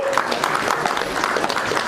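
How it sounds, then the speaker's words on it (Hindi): Brief burst of audience applause, dense clapping from a crowd at a steady, fairly loud level. "जोरदार तालियां हो जाएं."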